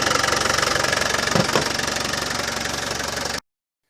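A Land Rover Defender 200TDi diesel engine idling close up after a new power steering pump was fitted, a steady rapid knocking diesel clatter without pump rattle, cutting off abruptly.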